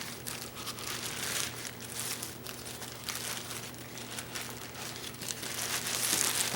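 Oilcloth being partly unwrapped from a lathe chuck for a 6-inch Craftsman lathe, a continuous close crinkling and rustling with occasional louder crackles, no voices.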